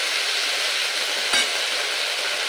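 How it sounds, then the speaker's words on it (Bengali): Ginger and green chilli paste with spices frying in a pan: a constant, dense sizzle with one brief clatter from stirring partway through. "এবার আদা কাঁচা লঙ্কার পেস্টটা দিয়ে মশলাটা খুব ভালোভাবে কষিয়ে নিতে হবে"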